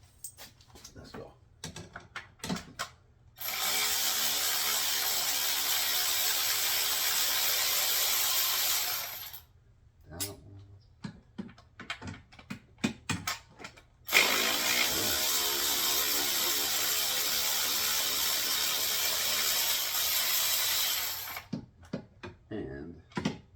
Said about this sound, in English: Same way I'll loosen them by hand and then pull them all the way out with this.